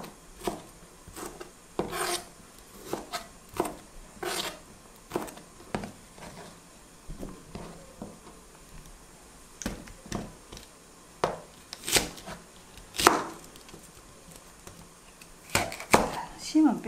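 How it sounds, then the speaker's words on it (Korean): Knife strokes cutting paprika into bite-sized pieces on a cutting board while making a pickle, a run of quiet, irregular taps and scrapes with short pauses between them. "파프리카도 먹기 좋게끔 자를게요."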